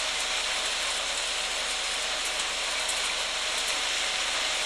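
A train hauled by a privately owned locomotive from the American company WS rolls past at Meldon Quarry, a steady loud broadband roar of wheels and running gear with faint rhythmic clicks throughout.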